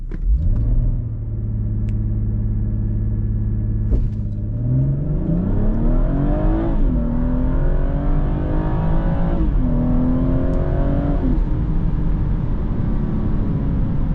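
A 400 HP BMW 440i launching hard under launch control, its turbocharged engine roaring loud and close as revs climb steadily through the gears, with a brief dip where the pull falters.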